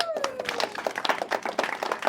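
An audience at a live podcast recording at a company headquarters claps briefly, a scattered patter of hands with a voice talking over it.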